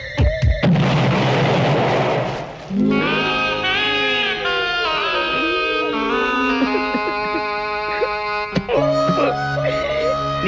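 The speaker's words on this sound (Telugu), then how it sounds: "నువ్వేంట్రా నా ఇంట్లో బాంబు పెట్టావు?" A bomb goes off in a comedy film scene: a loud, sharp blast opens, followed by a noisy rumbling burst, then music with another hit near the end.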